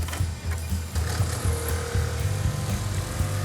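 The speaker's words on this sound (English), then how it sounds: "So that's your little 318 in there tinkering around." A 318 engine running in the Blue on Blue car, a steady close, throbbing idle with a rhythmic low pulse and mechanical clatter throughout, no voices.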